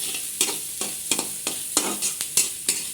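Chana dal fries in a pan with a soft sizzle, broken by about eight quick, rhythmic scraping stirs.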